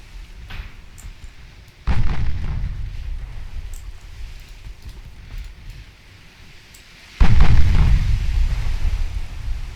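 Warship main guns in Ultimate Admiral Dreadnoughts boom twice, each a heavy, sudden blast followed by a long rumbling decay, with quieter distant thuds and a low background rumble between them.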